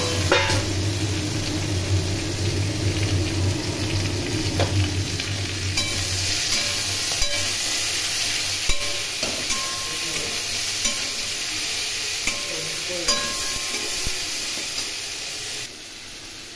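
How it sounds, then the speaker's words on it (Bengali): Chopped onion and tomato sizzle steadily in hot oil in a frying pan while a Bengali jackfruit and prawn dish is cooked, with a constant close hiss, occasional stirring scrapes and no talk. "এর মধ্যে পেঁয়াজ কুচি দিয়ে দিলাম ও টমেটো কুচি দিয়ে দিলাম।"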